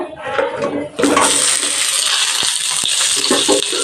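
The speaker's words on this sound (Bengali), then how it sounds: "পটল হালকা ভেজে নেবো" Five whole pointed gourds (potol), slit on both sides, drop into hot mustard oil in a kadai, setting off a loud, steady sizzle that jumps up sharply and then holds close and continuous.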